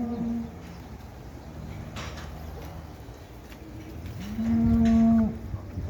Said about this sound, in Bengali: কত গরু দেখেন মাশাআল্লাহ